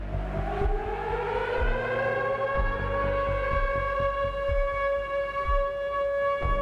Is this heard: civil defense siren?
yes